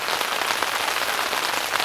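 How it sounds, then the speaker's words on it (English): Rain patters steadily on an awning over a small camping shelter, a dense, close, even hiss with no talk. "Nice rain coming down."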